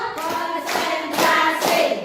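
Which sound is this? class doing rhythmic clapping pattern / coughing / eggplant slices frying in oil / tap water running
class doing rhythmic clapping pattern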